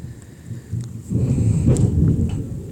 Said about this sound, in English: oh boy, there's thunder